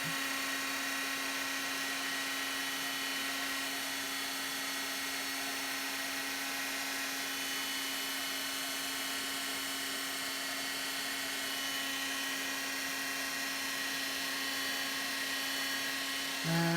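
An embossing heat tool blows steadily while heating gold embossing powder on foil, a constant whirring, fan-like drone with a high whine that holds unchanged for the whole stretch.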